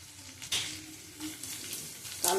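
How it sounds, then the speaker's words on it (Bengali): Nigella seeds hit hot oil in a wok for tempering a drumstick and potato posto, giving short, faint bursts of crackling sizzle over a quiet kitchen background. "কালো জিরে ফোড়ন দেবো"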